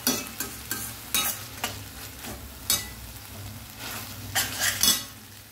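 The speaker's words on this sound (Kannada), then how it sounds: "ಇನ್ನೊಂದು 2 ನಿಮಿಷ ಫ್ರೈ ಮಾಡುವ." Blended tomato puree sizzles in a pan while a utensil stirs it, with soft steady frying under a series of scraping clinks against the pan, close and without speech.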